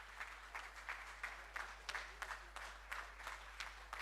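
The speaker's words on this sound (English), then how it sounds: "let's give a big round of applause again to our graduating students" A graduation ceremony audience at a university claps for the graduating students, a steady rippling of many hands heard at moderate distance in a large hall with a low hum under it.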